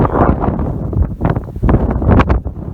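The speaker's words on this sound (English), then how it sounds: "Sorry, it's so windy." Heavy wind buffeting the microphone in strong gusts, deep rumbling bursts rising and falling with brief lulls between them.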